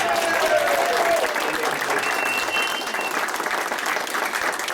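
Sustained applause for Andy and Donna from a radio show audience, steady dense clapping with some crowd voices mixed in, moderately loud and continuous.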